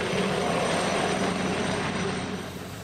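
Harold the helicopter flies away, a steady whirring rotor and engine drone that holds loud and even, then gradually fades a little toward the end.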